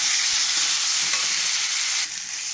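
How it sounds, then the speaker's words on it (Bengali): A ground spice paste of cumin, coriander, bay leaf and dried chilli is sautéed and stirred in hot oil, giving a steady, close sizzling hiss that eases slightly near the end. "মশলা, জিরে, ধনে, তেজপাতা, শুকনো লঙ্কা ভেজে বাটা হয়েছে। এটা ভালো করে কষাবো।"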